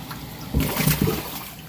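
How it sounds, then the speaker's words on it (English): An arowana splashes in water during a fish rescue, giving a brief nearby slosh and splash over a faint background hiss, with no voices. "There he goes splashing."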